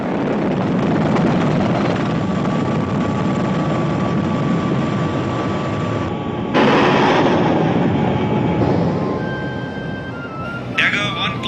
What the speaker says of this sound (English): Powered by paired engines in the 2000 HP class, the Mi-25 and its upgraded variant, the Mi-35